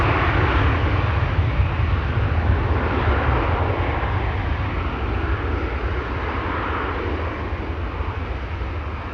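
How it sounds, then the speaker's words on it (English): A Transavia passenger jet bound for Thessaloniki roars at Schiphol Airport, a loud, broad, continuous engine rush that fades slightly over several seconds, heard alone without voices. "Transavia flight 5807 to Thessaloniki"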